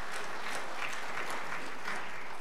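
Dense, continuous audience applause fills a church gathering honouring scouts who reached Eagle rank, an even, sustained roar of many hands with no pauses.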